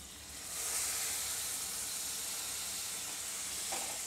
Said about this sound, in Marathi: लिंबाचा रस टाकल्यानंतर सुद्धा मी परतून घेतलेला आहे